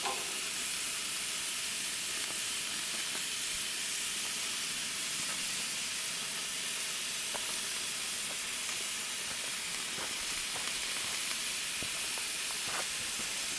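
Food sizzles steadily on a Coleman grill and stove outdoors in Voyageurs National Park, a constant close hiss with occasional small pops and crackles.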